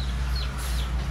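A hen gives a brief burst of clucking, close and fairly loud, over a steady low background hum.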